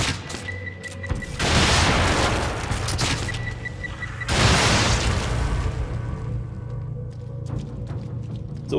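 Shotgun blasts in the horror video game The Evil Within boom out as two heavy, wide bursts a few seconds apart, each decaying into a rumbling tail under a low ambient game drone.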